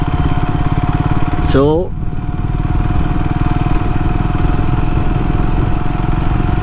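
A Triumph Scrambler 400 XC motorcycle engine thrums steadily with a close, loud, even rumble while riding in third gear, and a rider speaks over it.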